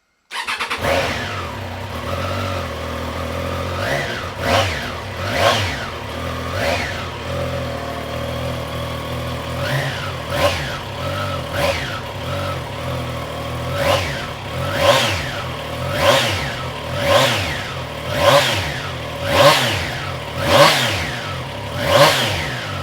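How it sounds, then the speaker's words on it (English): A Triumph Trident demo motorcycle with a 660cc triple engine starts up, settles into idle, then is blipped repeatedly, each rev rising and falling in a regular sequence of loud, close bursts. "we've obviously got the lovely 660cc triple engine, which is, it sounds absolutely glorious"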